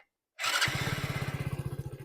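A BS6 motorcycle engine cranks after a brief silence, catches with a loud burst, and settles into a fast, even idle thump, close and alone.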